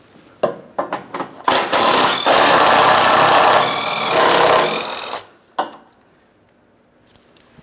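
Power tool spinning out 13mm mounting bolts from the front bumper impact absorber of a 2008-2016 Chrysler Town & Country, with a few sharp clicks, then a loud whirring run of about three and a half seconds and a short final burst.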